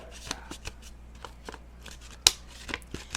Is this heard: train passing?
no